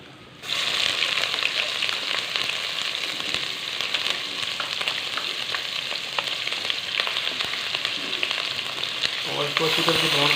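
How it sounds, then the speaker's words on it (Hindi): Ginger, garlic and green chili paste fries in a pan, a steady close sizzle with crackling pops running the whole time and occasional stirring, growing slightly louder near the end. "और इसको अच्छी तरह से ब्राउन कर लेंगे।"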